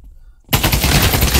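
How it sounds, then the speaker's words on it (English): Automatic gunfire in Pavlov VR bursts in suddenly after a quiet moment, a loud rapid stream of shots that continues unbroken to the end. "Somebody's shooting there."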